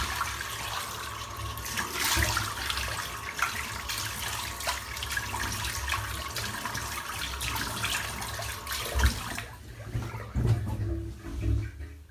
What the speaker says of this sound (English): Get the soap rinsed out. And then I'll rinse my face.